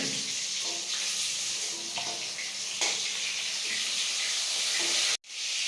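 Pointed gourd (potol) pieces fry in hot oil in a pan, a continuous loud hiss and sizzle with occasional crackling bursts, close by and unbroken until a brief cut near the end.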